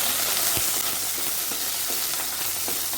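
Okra fries in a clay pot, giving a steady crackling sizzle with scattered pops and a few soft clunks of stirring, close and unaccompanied by speech.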